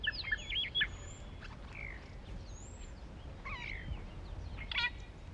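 Red-billed oxpecker calls in the African savanna: scattered short chirps and thin whistled notes, fairly faint, over a low rumbling outdoor background.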